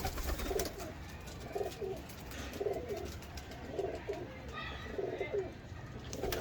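Grey pigeons coo in repeated soft rolling phrases about once a second, fairly close amid quiet outdoor background.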